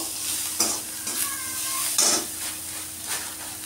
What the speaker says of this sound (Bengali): ব্রেড ক্রাম্বসটা ভালো করে ভেজে নেব লো টু মিডিয়াম আছে।